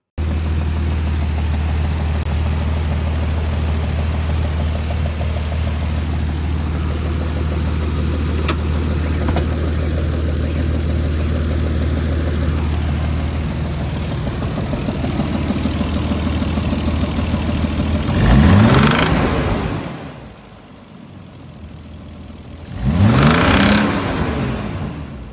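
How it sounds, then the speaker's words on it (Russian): A Nissan RB25DET Neo car engine with a knocking fault runs steadily at idle and close by, then revs up twice in loud bursts near the end, with no talking. "Сейчас я вам покажу, как выглядит стучащий двигатель, чтобы вы знали."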